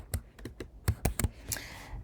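Fingers tap a computer keyboard in quick, uneven bursts of close, crisp clicks, about a dozen keystrokes in two seconds, with no one talking.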